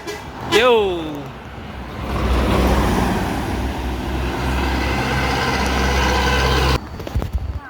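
An ANS Royal Class intercity bus pulls away with a rising engine drone and road rumble, loud and sustained, after a brief horn-like tone at the start.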